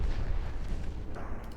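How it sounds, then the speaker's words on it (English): Torpedo hits on a warship in a naval battle game land as heavy, booming explosions in a dense, continuous rumble that dips slightly near the end, with no speech. "Oh, more torpedo hits."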